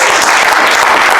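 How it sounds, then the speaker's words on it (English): A burst of audience applause, loud and dense, a short continuous wash of clapping with no voices over it. "Give this man a round of applause."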